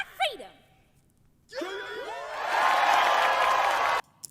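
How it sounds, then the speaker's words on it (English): A crowd at a Disney show breaks into loud cheering and applause that swells and holds for a couple of seconds, following a brief earlier vocal sound. "And the people cheer for that."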